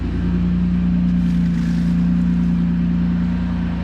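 A re-geared third-generation Toyota 4Runner with 4.88 gears pulls in first gear, its engine holding a steady, loud, droning low hum that stays constant throughout with no voices over it.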